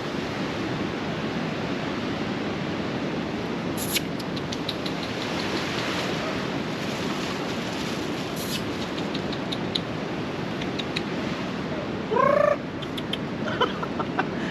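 A chicken clucks briefly in the distance near the end, over a constant rushing background like surf or heavy wind from a typhoon at a campsite.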